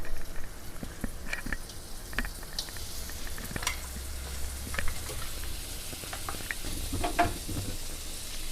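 Butter sizzles and crackles steadily in a kadai on a lit stove, a soft continuous frying hiss with occasional stirring clicks, close and moderately quiet with no talking.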